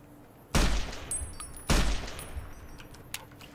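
Two loud service rifle shots ring out in Fallout New Vegas, about a second apart, each with a sharp crack and a fading tail, over quiet game ambience with no talk.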